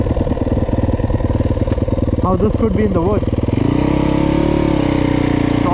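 A Yamaha YZ250 motocross bike engine runs at a high idle, its rapid, steady putter loud and close, then settling into a smoother, even drone while someone talks over it.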